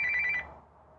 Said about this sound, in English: I got a phone call from my daughter